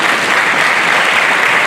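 Steady, dense clapping from a large audience at a graduation ceremony, loud and continuous throughout the short moment.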